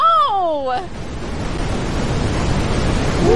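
A cartoon waterfall rushes as a steady, loud broadband roar, rising slightly toward the end, with a voice crying out briefly at the start over the water.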